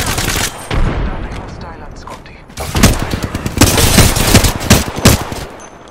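Rapid gunfire bursts in the Apex Legends video game, dense rattling volleys with a few short pauses, loud and close, mixed with game effects and some in-game voice callouts.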